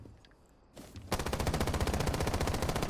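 Rapid automatic gunfire from a gun in Rainbow Six Siege, a quiet lead-in then a sudden loud sustained burst of evenly spaced shots, close and with no talking.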